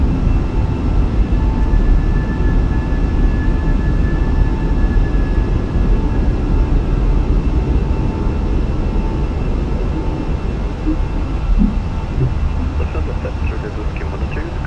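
Fenix A320 airliner taking off in Microsoft Flight Simulator, a loud, steady engine roar sustained throughout, with short spoken calls faintly over it toward the end.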